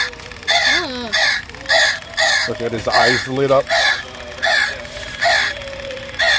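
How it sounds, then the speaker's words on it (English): Animatronic Halloween skeleton crow decoration in a Home Depot store lets out a string of repeated electronic caws in a regular rhythm, with people talking over it. "There's a skeleton crow right here."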